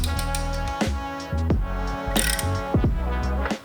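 A ratchet fitted with a 21mm socket loosens the wheel bolts on an Aston Martin, giving several close, loud bursts of quick clicking separated by short pauses.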